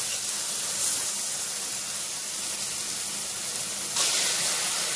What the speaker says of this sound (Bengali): সব কিছু একত্রে কষিয়ে নিচ্ছি।